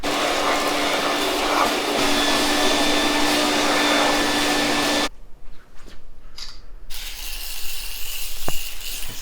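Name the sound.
vacuum cleaner cleaning chair upholstery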